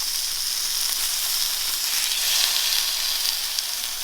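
Fish skin, crisped side up, sizzles in oil in a frying pan, a steady loud crackling hiss that keeps going without a break.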